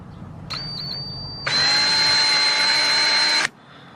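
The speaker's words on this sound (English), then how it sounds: "Let's pick up this drill." A power drill whirs in a short burst, then spins at full speed with a high, steady whine for about two seconds before stopping, drilling into a Honda S2000 car bumper.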